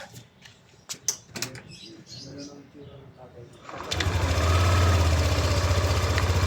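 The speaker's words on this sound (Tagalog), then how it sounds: "Okay, so i-start na natin. Titingnan natin kung may tunog pa." A Yamaha NMAX v2 scooter checked for a noisy rear end starts up after a few clicks and speech, then settles into a steady, close, throbbing idle that carries on to the end.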